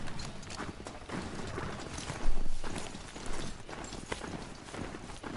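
Steady clip-clop of horse hooves walking in the video game Horizon Zero Dawn, a regular plodding rhythm of close, crisp hoofbeats over a dense background.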